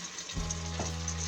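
Vegetables for a hearty minestrone soup sauté in a pan with table salt, giving a steady, close sizzle. A faint stirring clatter comes through near the start and again shortly after.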